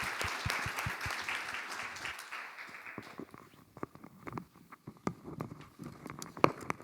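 Audience clapping for panelists after a fleet-management panel discussion, starting as dense applause and thinning into scattered individual claps.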